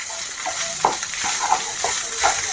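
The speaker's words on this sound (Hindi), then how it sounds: "इसको अच्छे से मिक्स कर लें" Maggi masala from two packets being stirred into a frying noodle-style mixture in a pan, a steady close sizzle with scraping stir strokes throughout and no talking.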